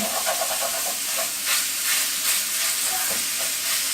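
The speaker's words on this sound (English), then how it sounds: "I have a very hot skillet, and all I'm going to do is break it up until it's in little crumbles after it cooks" Crumbled Italian sausage browns in a very hot skillet, giving a steady, close sizzle and hiss with scraping stirs throughout, no talking.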